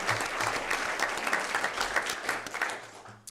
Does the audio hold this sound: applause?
yes